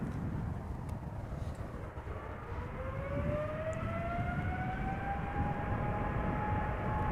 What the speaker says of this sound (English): Next up is going to be a 777-200ER going to Lima in Peru